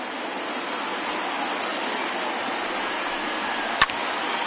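Stadium crowd noise from the MLB The Show 20 baseball video game, a Twins versus Detroit opening day game: a steady, broad roar of a large crowd on its feet, constant throughout with one brief sharp knock near the end.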